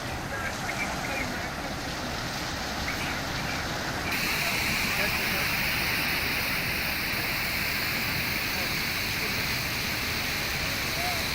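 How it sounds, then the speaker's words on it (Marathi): Amboli waterfall in the Sahyadri hills roars in a steady, dense rush of fast-flowing water swollen by heavy monsoon rain, loud and unbroken throughout. "सह्याद्री पट्ट्यावर सुरू असलेल्या अतिवृष्टीमुळे धबधब्याचा प्रवाह वेगाने वाहत असून"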